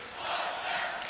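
A handball arena crowd at a Hungary versus Norway match roars in a short, steady swell of cheering, fairly faint and distant.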